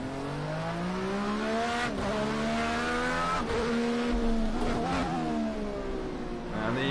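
Race car lapping Long Beach in Project Cars 2, heard from the cockpit: the engine revs up through repeated gear changes with brief dips between, loud and close, with faint tyre squeal.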